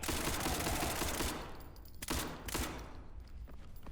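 Rapid gunfire in SCP 5K, a video game, fired at a wiring box, a dense burst of loud close shots followed by a few separate sharp cracks.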